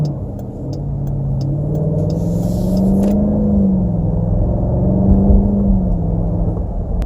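A 2018 Dodge Durango SRT with the 392 V8 revs up in a deep, steady roar that rises and falls in pitch over several seconds, loud and close, with no talking.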